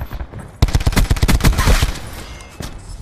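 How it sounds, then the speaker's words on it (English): Sentry gun in Black Ops 4 opening up in a rapid, loud burst of automatic fire after a brief quiet start, shots tapering into scattered echoes toward the end. "Sentry gun."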